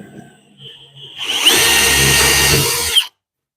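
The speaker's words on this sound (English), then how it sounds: "We're going to try to drill our smoothest hole here." A power drill boring a hole for a router plate install, a short burst of loud whirring and grinding lasting under two seconds that stops abruptly, with faint quiet sounds beforehand.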